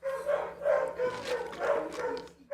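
A dog barks repeatedly indoors, a series of close, loud barks and yips in an uneven rhythm, with a faint steady hum underneath and no talking.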